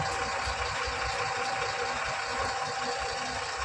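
A large express bus engine idles steadily nearby, a continuous rumbling drone with no talking over it.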